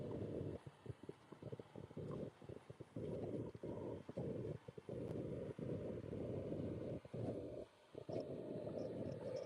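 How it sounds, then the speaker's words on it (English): Gusty wind outdoors on a street, a low, rumbling buffeting against the microphone that keeps pulsing with brief lulls, fairly faint and without talk. "starting to get really windy out here"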